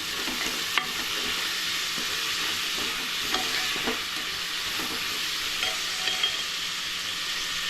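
Sliced onions sautéing in a pan for a pressure-cooker chicken curry, an even hiss of frying with occasional soft spatula scrapes and taps, close and without talk.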